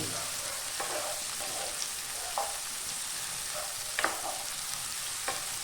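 Sliced onions frying in a pan for a coconut chicken curry, a soft steady sizzle broken by several distinct spatula scrapes and taps as they are stirred, no voices.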